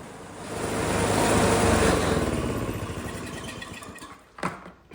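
An Ariens Snow-King 624E snow blower engine runs steadily for a few seconds, a close, moderately loud hum that swells and then eases before a brief knock near the end.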